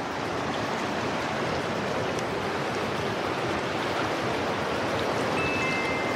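Takakkaw Falls in Yoho, Canada, sends down a steady, dense roar of rushing water, loud and unbroken from start to finish, with no voices over it.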